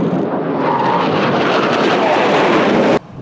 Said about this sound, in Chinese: 飞机战机实施战术脱离动作，